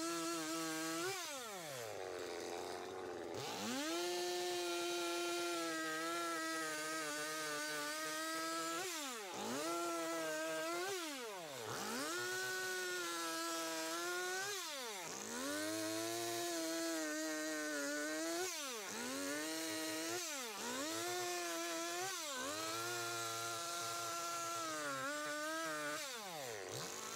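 A chainsaw carving a wooden bear from a log buzzes loudly and continuously up close, its pitch repeatedly dipping under load and climbing again as the blade bites and releases.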